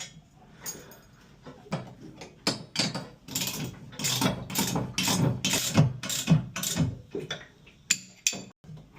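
Ratcheting clicks and metallic tool work while tightening a fastener on a boat rudder during a repair in Colombia, a steady run of close, sharp mechanical ticks and knocks with no talking.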